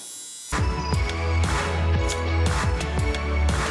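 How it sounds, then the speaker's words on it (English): After a brief silence, a high-frequency facial device switches on against skin with a close, steady electric buzz laced with rhythmic crackling ticks that continue to the end. "So that's how you use the high frequency machine."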